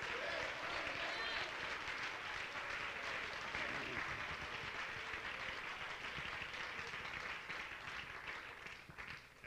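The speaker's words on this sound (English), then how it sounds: "We ought to just stand up and clap our hands for a moment and thank God for the revelation" A church congregation claps and applauds together in a steady, dense roar of hands that fills the room and fades slightly toward the end.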